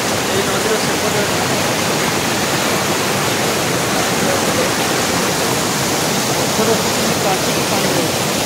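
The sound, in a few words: river water rushing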